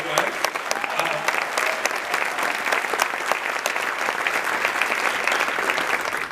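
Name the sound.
audience applause for the speaker's wife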